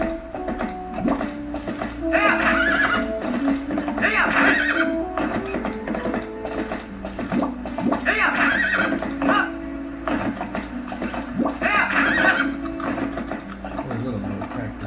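Horse in Zelda: Twilight Princess neighing and whinnying repeatedly over rhythmic clip-clopping hooves, game sound with a voice talking over it.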